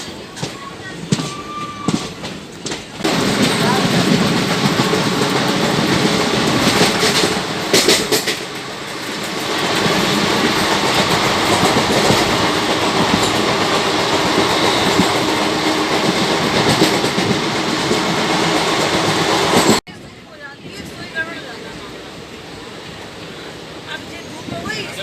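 Varanasi Mahamana Express rolling along the rails toward Varanasi Junction, a loud, steady rumble and clatter of wheels heard close from on board, dropping to a quieter hum near the end.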